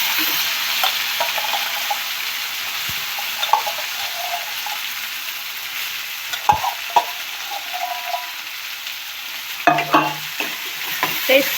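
Chana masala sizzles in a frying pan as a spoon stirs it, a steady hiss with scattered scraping knocks, close and continuous with no voices.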